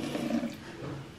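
Water running from a kitchen tap, a steady close hiss and splash that holds for about a second with no talk over it.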